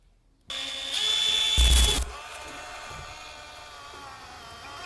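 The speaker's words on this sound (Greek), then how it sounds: "Τοποθετούμε στο πιστολέτο μας ποτηροτρύπανο 68 χιλιοστών, βγάζουμε την κρούση και με το τρυπάνι ανοίγουμε τις τρύπες που έχουμε σημαδέψει." A cordless drill fitted with a 68 mm hole saw, hammer action switched off, bores a marked hole: a steady whining motor with a loud, rough grinding burst in the middle before settling back to a continuous hum.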